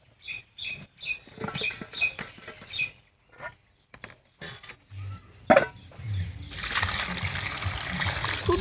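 Water trickles and splashes as fresh young carrots are rinsed in a kitchen, with intermittent dribbling bursts, a brief louder splash, then a steady running-water rush toward the end.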